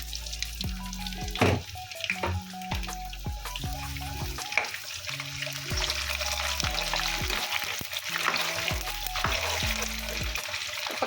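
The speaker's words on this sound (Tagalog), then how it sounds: "habang ganyan ay lulutuin na natin ang ating patatas" Potatoes fry in oil with a steady crackling sizzle, alongside intermittent clinks and scrapes of a utensil and a background melody, with no talking.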